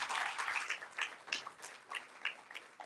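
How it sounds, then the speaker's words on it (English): An audience at the outdoor Ramayana in the Park 2024 event applauds for about three seconds. The clapping is faint and distant, with irregular swells. "Give Ramayana in the Park a big round of applause"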